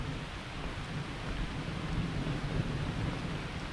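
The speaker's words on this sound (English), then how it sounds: "Oh well, rain has to fall sometime." Rain falls in a dense, even hiss with a low rumbling undertone, steady and close throughout, with no voices.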